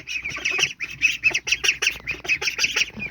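Ducklings quack in a steady string of bright, close calls, overlapping in quick bursts with brief pauses between them.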